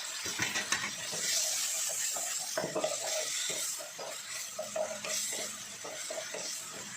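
Fish and celery are stir-fried in a hot pan, with a steady sizzle under repeated scraping and clinking of a utensil against the metal, close and busy without talk.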